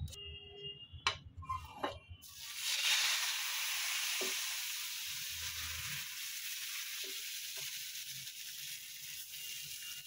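Chita ruti batter made from rice flour hits an oiled tawa and bursts into a loud, sustained sizzle that settles into a steady hiss. A few clinks and knocks of utensils come before it.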